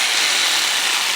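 A power tool cutting metal lengths to size for an ammo can double burner rocket stove, a loud continuous abrasive grinding hiss, close and unbroken, with no talking.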